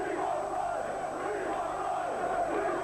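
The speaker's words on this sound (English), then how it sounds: "their anger boiled over as 400 Vauxhall workers stormed the company's headquarters, demanding to speak to the chairman, Nick Riley" Roughly 400 angry Vauxhall car workers storming the company headquarters, a dense continuous roar of shouting crowd voices heard at a moderate distance with no single voice standing out.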